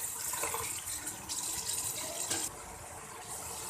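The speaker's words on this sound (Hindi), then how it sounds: "और ये अब मैं इसमें डाल देती हूँ लोबिया।" White lobia beans poured into a tomato masala, giving a soft, wet, rushing pour with slurping splashes, moderately faint and close, before a brief dip and a steadier tail.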